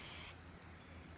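A sprayer hisses briefly and loudly over pear trees in an orchard, cutting off after a fraction of a second and leaving a low, steady background hum.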